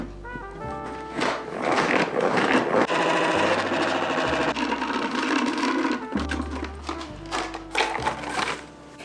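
A salad spinner whirs loudly as it spins water off washed salad vegetables, a continuous rattling mechanical drone that speeds and slows with the cranking, close up and without talk.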